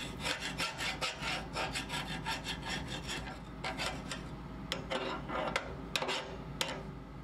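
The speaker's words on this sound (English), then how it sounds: "Your pry bar scraper tool and kind of scrape it off a little more." Pry bar scraper dragged over carbon deposits inside a Harman pellet stove, rapid rhythmic rasping strokes close up, steady at first, then slower with sharp metallic scrapes.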